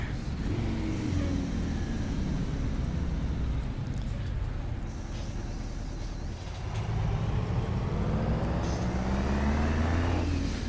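A heavy truck in American Truck Simulator, fitted with a Detroit 8V92T engine, slows under braking with a loud, continuous engine drone that sags in pitch midway and then climbs again, with no talk over it.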